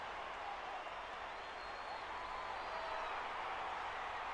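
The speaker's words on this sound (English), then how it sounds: "This NC State home fans are cheering their heads off." Home crowd of NC State fans cheering in the NCAA Football 14 video game, a steady, dense roar of broadband crowd noise that holds loud and unbroken throughout.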